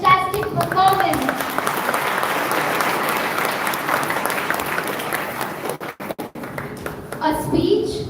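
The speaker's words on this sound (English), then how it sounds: "Dear audience, give a big round of applause for such a fantastic performance." School audience at a Lucknow Public Collegiate event applauding a school choir, a sustained wave of dense clapping that thins out toward the end, with children's voices and speech mixed in.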